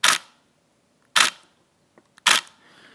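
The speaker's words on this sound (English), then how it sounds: "let's see what the shutter sounds like versus my D800, and let's go ahead and take a shot." Three separate shutter releases from a Nikon D850 DSLR held close to the mic, each a sharp, loud mechanical clack followed by a short decay, with a faint click between the second and third.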